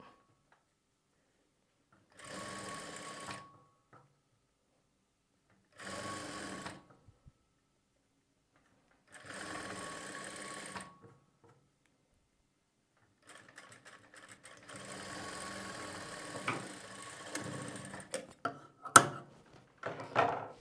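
Domestic sewing machine stitching piping onto the back neck of a blouse, running in several short whirring bursts separated by pauses, then a longer stretch of stitching with fabric handling noises, fairly quiet and close.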